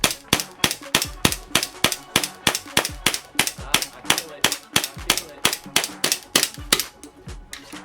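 A JAG Arms GMX gas blowback airsoft pistol fires a long steady string of sharp, loud snapping shots, about three per second, close up with a mechanical clack after each, in cold winter conditions.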